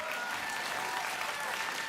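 Studio audience on a late-night talk show applauding steadily, a dense, even wash of clapping filling the whole short stretch with faint voices beneath.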